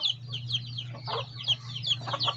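Backyard chickens cluck and squawk in quick, overlapping bursts during feeding, close by over a low steady hum.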